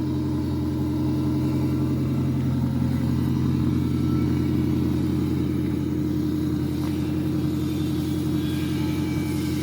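A lowered Honda Espass motorcycle runs steadily, its engine and exhaust giving a constant low, throbby idle rumble that stays close and even throughout, with no voices.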